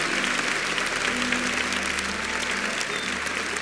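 A church congregation at a Catholic Mass claps together in dense, steady applause that fills the room evenly and continuously at a loud level, with no individual voices standing out.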